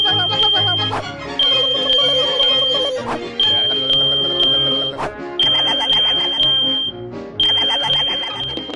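A household smoke alarm sounds when its test button is pressed, giving loud, piercing, high-pitched beeps in a repeating pattern of short bursts and pauses, with music playing underneath.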